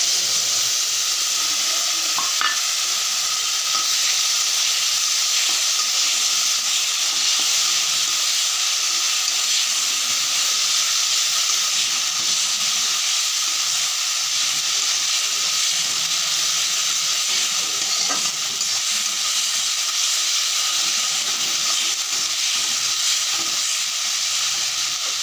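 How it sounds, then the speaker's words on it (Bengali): Onion masala with chilli powder and a little water frying in a pan, a steady, even hiss and sizzle running on without a break, with only a few faint clicks. "এবারে একটু জল মিশিয়ে নেব, নিয়ে ভালোভাবে আমি ভেজে নেব"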